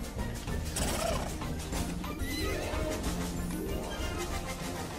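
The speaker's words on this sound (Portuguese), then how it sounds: "Esses cavalos." Horses neigh and whinny in an animated film, loud and busy under dense music and effects, with several calls overlapping across the scene.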